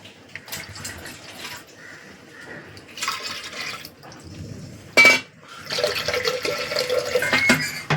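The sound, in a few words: water poured over lentils in a pot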